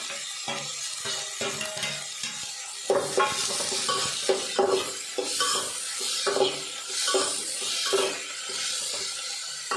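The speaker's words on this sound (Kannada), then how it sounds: "ಈರುಳ್ಳಿ ಮತ್ತು ಟೊಮೆಟೊ ಒಂದೇ ಸಲ ಸೇರಿಸ್ಕೊಂಡು ಫ್ರೈ ಮಾಡಿಕೊಂಡು ನಡೀತೈತಿ." Onion and tomato fry together in a pan, giving a steady sizzle while a utensil stirs and scrapes against the metal in repeated strokes. No voices.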